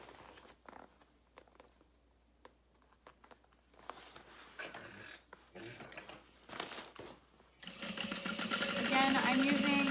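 A sewing machine stitches a seam on a fabric beauty bag with a seam allowance a little over half an inch. Quiet handling and rustling come first, then the motor runs loud and continuous for the last couple of seconds.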